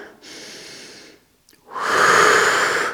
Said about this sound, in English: Take an inhale, take an exhale.